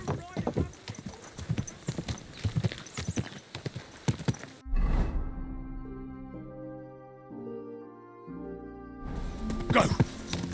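Horse hooves clopping in Kingdom Come Deliverance II, a quick run of close, sharp hoofbeats that stops abruptly, followed by a sustained musical passage and then more hoof clatter and movement noise at the end.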